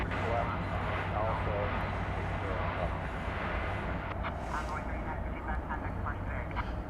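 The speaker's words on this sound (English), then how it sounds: "From Tucson, Arizona, Flight 584 in Airbus A321, American Airlines" American Airlines Airbus A321 jet passing an airport at night, its broad engine roar steady and fairly loud throughout, with people talking over it.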